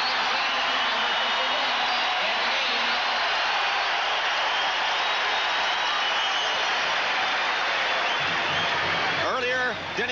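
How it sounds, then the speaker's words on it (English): A basketball crowd roars in Freedom Hall during the 1986 Louisville versus Memphis State Metro Conference tournament championship game, a loud, sustained wash of cheering that fills the arena, with a voice rising near the end. "Listen to the crowd in Freedom Hall."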